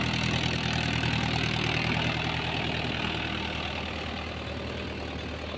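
A Mahindra Yuvo 575 4WD four-cylinder tractor pulls a nine-tine cultivator through very wet farmland, its diesel engine droning steadily and loudly nearby with a rough, knocking rumble that eases slightly toward the end.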